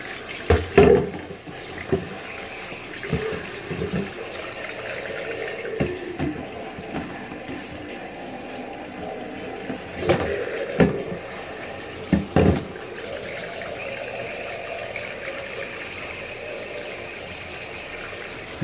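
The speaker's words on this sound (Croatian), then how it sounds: "Mislim da nisam do kraja ni pustio vodu." Tap water runs steadily into a sink while an EHEIM Classic 250 aquarium pump canister is rinsed, a continuous wash with a few brief louder splashes and clatters of the canister, no talk.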